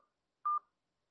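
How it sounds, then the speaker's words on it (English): A single short touch-tone beep from a phone dialing a Zoom meeting number, clean and clear against silence. "So you hear it dialing the number now."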